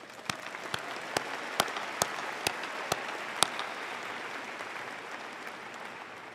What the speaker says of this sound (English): Let us applaud their dedicated efforts.